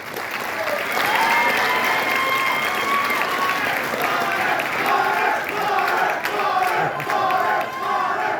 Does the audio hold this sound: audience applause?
yes